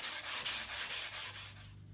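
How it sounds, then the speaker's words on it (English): A quarter sheet sander with 80 grit sandpaper scrubs a wooden guitar body in about eight quick rhythmic strokes, a close, harsh rasp with no talking. "I use my quarter sheet sander and 80 grit sandpaper to begin the sanding process"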